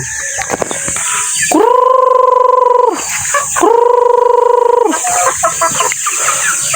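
Hens and roosters in a coop clucking and calling, with two long loud sustained tones in the middle dominating the sound, and busy clucking before and after.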